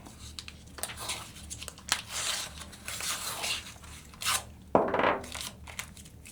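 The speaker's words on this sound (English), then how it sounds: "So we'll go ahead and protect our lure here first with some painter's tape." Painter's tape being wrapped around a fishing lure head, heard as close crinkling, tearing and sticky peeling noises in short irregular bursts, with one sharper rip near the end.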